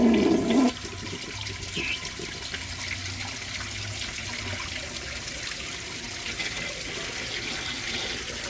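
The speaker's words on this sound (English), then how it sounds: "I will try a second flush" A vintage toilet, either a 1970 Kilgore Apex or a 1957 Standard Cadet, flushes for a second time. It opens with a sharp close clunk, then a steady loud rush and trickle of water refilling that runs on through the rest of the clip, with no talking.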